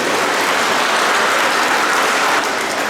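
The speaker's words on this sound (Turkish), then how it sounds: "Onlar için sizlerden yüksek bir alkış istiyor" Loud, dense applause from an audience at a school end-of-season festival, honouring teachers; a thick, unbroken wall of clapping that stays strong and even from start to finish.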